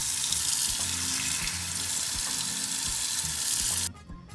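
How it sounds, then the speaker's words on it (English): Water running and pouring into a jar of pickling liquid for quick pickled red onions, a steady splashing hiss with a low gurgle beneath, stopping abruptly near the end. "We need some water here to dilute it down a bit."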